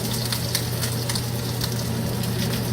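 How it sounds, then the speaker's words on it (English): Rack of lamb searing in a hot pan, giving a steady, loud, continuous sizzle with crackling spatter throughout and no voices. "Get a nice crusty sear."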